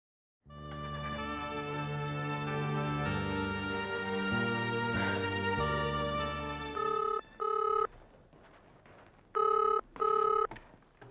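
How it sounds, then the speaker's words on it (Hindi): A telephone rings during a call, starting with a long sustained electronic ringtone and then giving four short, loud bursts in two pairs with gaps between them. The ringing is close and heard alone. "मैं अभी उसे फोन लगाता हूं।"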